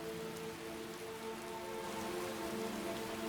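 Steady rain falls in Skyrim, a dense, even hiss of drops on surfaces that holds constant throughout, with no breaks and no voices.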